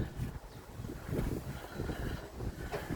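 Strong wind gusts buffet the microphone in loud, uneven rumbling bursts, with no voices heard.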